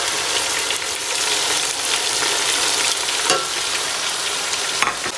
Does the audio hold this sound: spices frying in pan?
yes